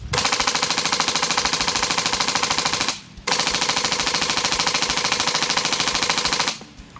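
A Viva Arms M1919 airsoft machine gun fitted with a PolarStar Fusion Engine fires two long full-auto bursts of rapid, evenly spaced shots, close and loud, separated by a brief pause.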